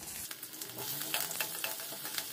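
Mustard seeds, cumin, dried red chilli pieces and garlic crackle in hot oil in a kadai for tempering, a close, steady sizzle dotted with sharp popping spatters and occasional stirring, with no voices.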